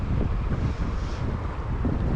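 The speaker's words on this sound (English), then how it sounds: "It is windy down by Red Bridge here." Steady wind buffets the microphone with a low, rumbling roar that gusts slightly and keeps going without a break, down by a riverside bridge while fishing.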